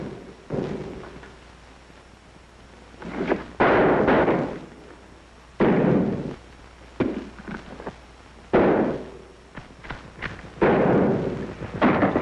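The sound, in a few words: gunshot executing a man in a 1942 film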